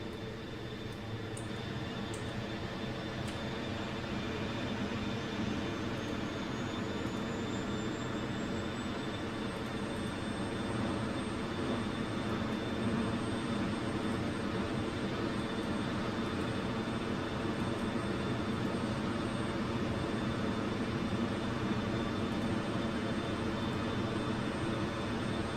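An F-16 jet engine spools up in the DCS flight simulator, a steady broadband roar with a faint rising whine that holds loud and continuous throughout, with no talking over it.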